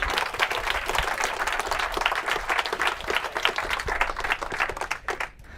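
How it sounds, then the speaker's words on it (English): Audience applause at a Cambridge University debate, dense sustained clapping from a large crowd that carries on for several seconds before tapering off at the end. "We give him a round of applause, please."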